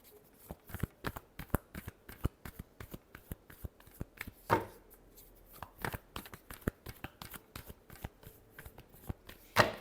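Tarot cards are shuffled by hand in a rapid, even run of crisp riffling flicks, close and fairly soft, with no speech.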